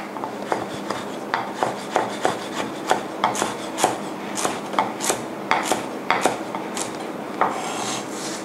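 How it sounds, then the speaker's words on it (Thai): A knife slices coriander root and lemongrass on a board for Thai grilled pork noodles, giving a steady run of crisp, evenly spaced cuts, about two per second, close and distinct, with no talk. "ตามด้วยตะไคร้นะคะซอยให้เป็นชิ้นเล็กๆค่ะ"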